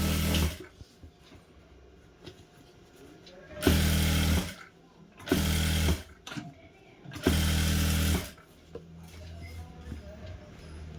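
A sewing machine stitches cross fabric onto a blouse lining in three loud, close bursts of whirring, separated by quieter pauses with faint room noise.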